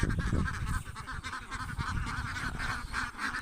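Ducks honking and quacking continuously at close range on a farm, a dense, loud flock chorus with no talk over it.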